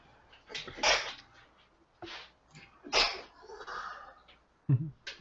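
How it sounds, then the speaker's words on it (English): A few sneezes, sharp and close, spaced about two seconds apart, with quiet breathing and small sounds between them. "He's sneezing."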